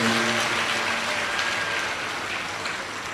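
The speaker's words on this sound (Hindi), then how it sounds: "एक बार यजमान परिवार के लिए जोरदार ताली बजाकर स्वागत, वंदन, अभिनंदन," An audience at a Shiv Mahapuran religious discourse applauds loudly, a thick, continuous wash of clapping that stays strong and slowly eases over a few seconds.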